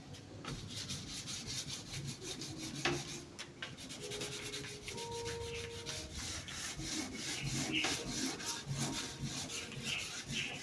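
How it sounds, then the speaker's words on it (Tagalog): Quiet, rapid back-and-forth rubbing of 240-grit sandpaper on wood coated with sanding sealer, steady rhythmic strokes close by. "Gamit itong liha na 240."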